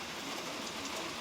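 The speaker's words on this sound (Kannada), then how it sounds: "ಹೊರಗಡೆ ನೋಡಿ ಮಳೆ ಬರ್ತಾ ಇದೆ" Rain falls outside a house as a steady, faint, even hiss with no voices.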